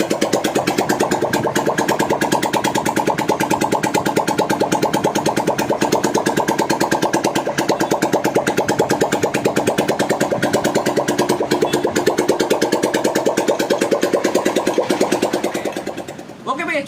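A Bajaj Pulsar motorcycle engine runs just after being refuelled, close up, with a loud, fast, even beat that holds steady and then drops away near the end, and a voice can be heard over it.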